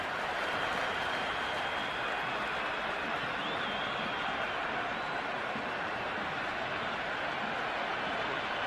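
A stadium crowd in the Cricket 26 video game applauds and murmurs steadily during a T20I match between Sri Lanka and Pakistan, forming a dense, even wash of clapping and crowd noise throughout.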